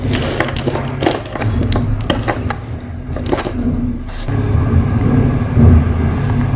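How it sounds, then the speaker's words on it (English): A garbage truck outside makes repeated sharp bangs and clanks, irregular and mid-distance, over a low rumbling engine hum that swells toward the end. "there's a bunch of banging in the background."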